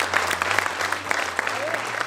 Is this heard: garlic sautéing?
no